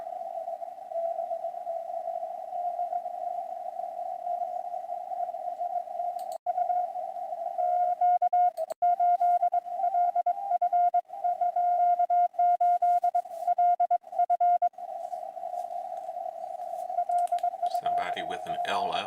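Morse code on an amateur radio receiver sounds as a steady single-pitched CW tone, keyed into dits and dahs with brief gaps, loud and clear, ending in a burst of static.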